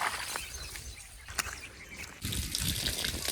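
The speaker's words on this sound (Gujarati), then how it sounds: "તો જો આપણે અળસિયાનું પાણી પાવાનું ચાલુ કરી દીધું છે" Water mixed with earthworm liquid being poured onto plants, a soft trickle and splash, faint at first and then fuller and steadier toward the end, with a bird faintly audible.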